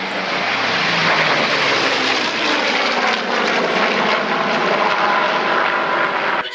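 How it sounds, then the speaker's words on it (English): A Second World War propeller aircraft flies past at the Biggin Hill Air Fair air show, giving a loud, continuous droning roar that holds steady throughout and dips only slightly at the very end. "So here is Nigel now flying in Second World War aircraft"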